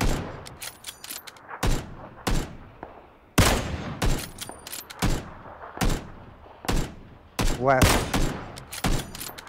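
Repeated gunfire in a PlayerUnknown's Battlegrounds match: loud sharp shots in irregular bursts and single cracks, up close, while players talk over them.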